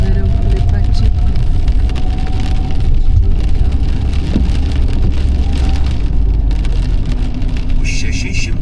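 Rain drums steadily on a moving car during a drive through Puerto del Rosario, Fuerteventura. A constant loud wash of patter blends with road rumble, and a navigation voice speaks faintly.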